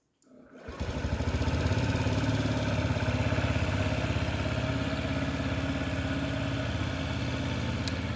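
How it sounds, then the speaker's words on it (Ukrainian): A Honda Zoomer scooter engine cranks briefly and catches, then settles into a steady, even idle with a low rhythmic putter that continues loud and close to the end. "Ну і запуск."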